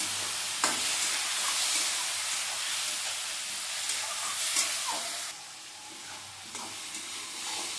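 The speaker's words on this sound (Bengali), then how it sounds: "এবার দিয়ে দিচ্ছি সামান্য একটু জল, দিয়ে ভালো করে কষিয়ে নেব।" Prawns frying in a pan with turmeric, chili and a splash of water, giving a steady close sizzle and hiss broken by occasional stirring scrapes, softer toward the end.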